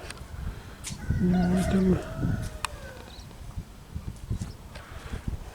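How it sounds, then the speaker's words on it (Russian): A rooster crows loudly nearby, followed by a softer crow further off, amid rustling, scattered background noise and a few voices. "Петухи поють."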